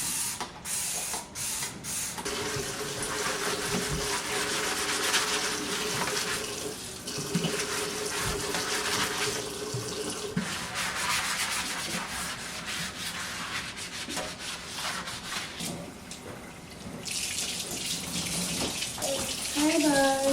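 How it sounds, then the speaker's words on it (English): Water runs from a faucet while a home sink is scrubbed clean, a continuous close splashing wash with rubbing and clattering bursts that rise and fall, and a brief voice near the end. "now I need to clean this sink out"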